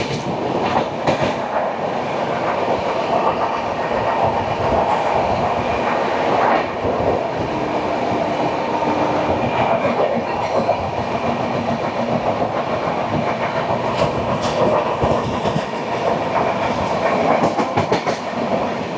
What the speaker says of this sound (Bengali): খড়গপুর থেকে এই আন্দুল পর্যন্ত ট্রেন কিন্তু কোথাও কোনো দাঁড়ায়নি, ননস্টপই চলেছে